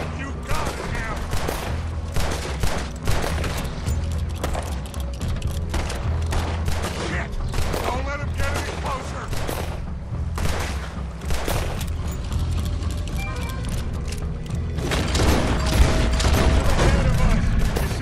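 A chaotic shootout in Red Dead Redemption 2 at Shady Belle, with many overlapping gunshots cracking near and far in irregular volleys, occasional heavier booms, and voices breaking in now and then.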